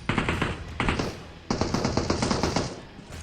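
Automatic gunfire rattles in PUBG Mobile, several rapid bursts of shots in a loud, close, continuous stream with no voices.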